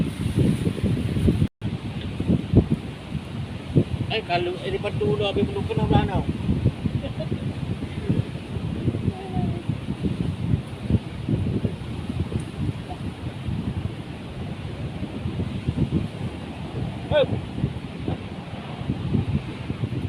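Strong beach wind in Banda Aceh buffets the microphone in rough, continuous gusts while a person talks briefly over the roar.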